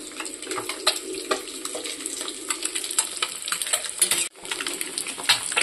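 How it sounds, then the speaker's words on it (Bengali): Eggs fry in oil in a wok, a dense close crackle and spatter with scattered sharp pops and light metallic clinks, steady throughout with no talk. "এবার এখানে ডিমগুলো ভেজে নিচ্ছি।"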